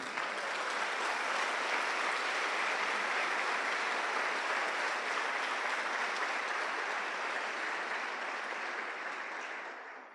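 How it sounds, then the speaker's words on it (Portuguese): A church congregation claps steadily for about ten seconds, a dense, even wash of applause that stays loud throughout and tapers off slightly at the very end. "dá um aplauso bem lindo para o Senhor"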